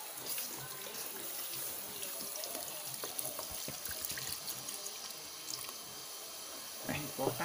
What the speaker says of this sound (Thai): ป่ะลองเติมน้ำไปเลย